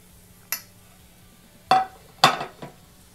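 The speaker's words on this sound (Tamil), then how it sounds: "இதை நல்லா கலந்து விட்டுடலாம்." Coriander stirred into shark fish puttu in a pan, a few separate metallic clinks and scrapes of a utensil against the pan, spaced irregularly over a faint low hum.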